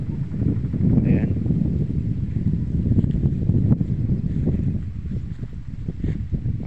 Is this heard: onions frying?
no